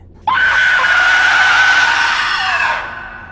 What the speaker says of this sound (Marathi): त्यांना बेसमेंटमधून एक खूप जोराची किंचाळी ऐकू येते